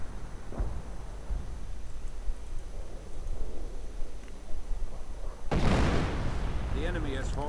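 Artillery bombardment in a real-time strategy game, with shells pounding a central victory point: a steady rumble of distant booms and blasts runs throughout, then a loud, close burst of impacts near the end. A voice talks over it.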